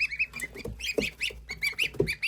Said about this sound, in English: Well, there's the geeses.